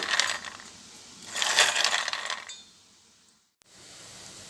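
Uppu seedai, small salty rice-flour balls, rattle and clink as they fry, with two bursts of crackling jingle, a quieter stretch, a brief break and a faint return.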